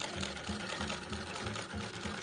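A German Frister and Rossmann sewing machine stitching, a steady rhythmic mechanical whir with repeated low thumps of the needle cycling, close and continuous with no talk.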